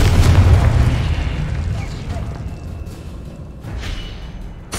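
A Confringo fire spell from Hogwarts Legacy bursts in a loud, deep boom at the start. Its rumble rolls on and fades slowly, and a second, softer burst swells near the end.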